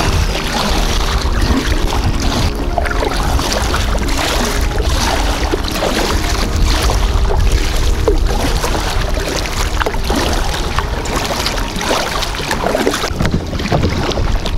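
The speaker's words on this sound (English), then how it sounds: "You hear that choppiness under the boat?" Continuous choppy water from an incoming tide sloshes and slaps beneath a small paddled boat on a creek, with gusty wind noise buffeting the microphone throughout.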